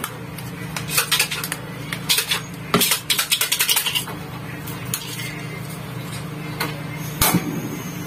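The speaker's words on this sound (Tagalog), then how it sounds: "haluin ko lang, naigi" A utensil stirs food in a metal pot, making rapid clattering taps and scrapes in irregular bursts, close and clear over a low steady background hum, without talk.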